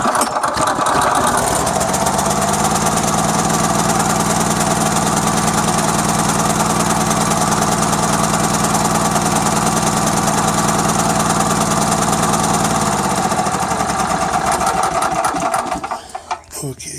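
Honda EG3500 generator engine running steadily after a pull start, a loud close buzzing drone with rattling vibration that holds for most of the stretch, then dies away near the end as the engine shuts off.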